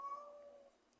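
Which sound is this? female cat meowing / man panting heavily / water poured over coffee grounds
female cat meowing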